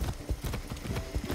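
Horse hooves clip-clop in a steady trotting rhythm in the video game Far Cry 6, the footfalls close and distinct with no talk over them.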